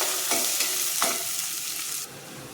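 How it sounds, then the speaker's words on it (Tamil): A pan sizzles loudly and steadily as onions sauté for a Chettinad-style country chicken curry, with a couple of stirring scrapes and the hiss easing slightly near the end. "வெங்காயம் நல்லா வதங்கட்டும் அதான் குழம்பு டேஸ்ட் நல்லா இருக்கும்"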